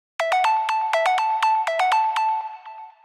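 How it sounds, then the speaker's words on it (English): Serum sine synth lead thickened by multi-band compression and tube distortion plays a fast run of short staccato notes, louder and fuller with a buzzy edge, ringing out alone before fading. "Then with the compression and distortion."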